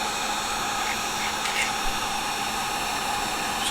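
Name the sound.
heat gun melting nylon harness sheathing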